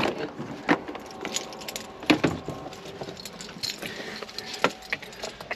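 Keys to a Chevrolet HHR jangle and clink up close in a car lot, with sharp metallic rattles popping out in irregular bursts over steady background hum.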